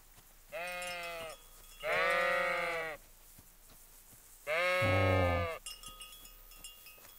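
Sheep in Kingdom Come: Deliverance bleat three times, long wavering calls separated by short pauses, with faint clinking in the background afterward.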